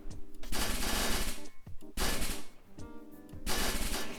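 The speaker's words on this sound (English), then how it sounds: "let's try this SMG mode" Bursts of SMG gunfire in a video game: rapid, loud automatic volleys in three or four clusters separated by brief pauses, with no talk over them.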